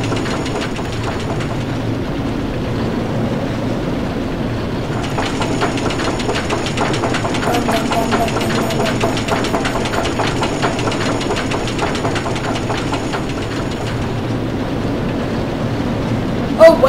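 A Soap Racers coaster in RollerCoaster Tycoon 3 rumbles along its track with a steady mechanical clatter and rapid rhythmic ticking, loud and continuous throughout.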